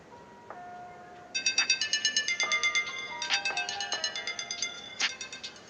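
A Xiaomi Mi Band 4 fitness tracker's find-phone alert sets a phone ringing with a bright, repeating melodic ringtone, loud and close. Several seconds of steady tonal pulses follow a brief softer chime, with no talking over it.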